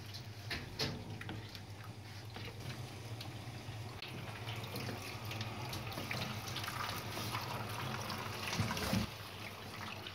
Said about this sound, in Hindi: हम पानी डाल रहे हैं बर्फ वास्ते,